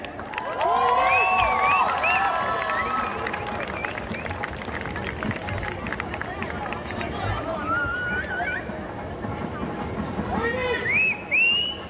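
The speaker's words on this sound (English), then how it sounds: "please cheer for them" An audience cheers and applauds for a youth band at a band contest, a loud burst of clapping and shouts that thins into crowd chatter with some whistles, while people talk over it.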